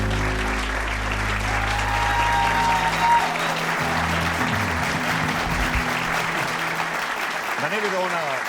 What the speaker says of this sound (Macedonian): Прекрасен аплауз.